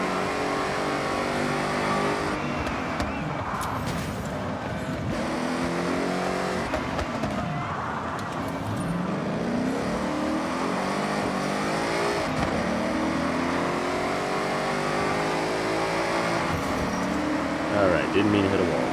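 Racing car engines roar through a multi-lap race in Forza Horizon, with several cars revving and accelerating close together for a sustained, loud stretch, while a voice talks over the engines.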